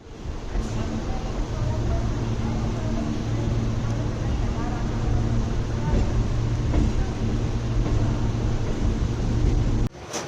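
A Chennai Beach–Velachery MRTS suburban train rumbles steadily from inside the carriage, a constant loud drone with low hum lasting the whole stretch, and a voice talks over it.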